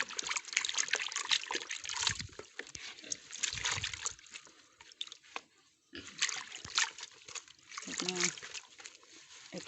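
Madre de agua leaves are washed in water for pigs, with splashing, sloshing and trickling in uneven bursts. The washing plays under close talk, with a brief quiet gap midway.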